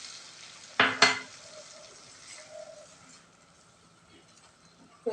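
A little water hits a frying egg curry in a pan, making a sharp double burst of hiss and splash. The sound then fades into a faint, low simmering sizzle.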